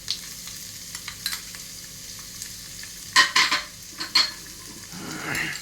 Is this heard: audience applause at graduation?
no